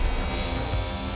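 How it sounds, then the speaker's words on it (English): An onboard F1 car engine in F1 Manager 2022 drones continuously, loud and close, a steady throaty whine with dense tonal harmonics and no pauses. "Changing to an onboard view, we have a completely different set of sounds. You get a really throaty, angry sounding engine."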